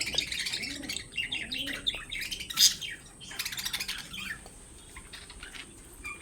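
Teddy pigeons kept as a pair for sale chirp and call in quick bursts, with sharp, clear tweets near the start and midway, then fading into quieter background calls.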